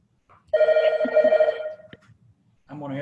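A telephone rings loudly and close during a library board meeting, one sustained electronic trill that cuts off, followed by a voice starting to speak.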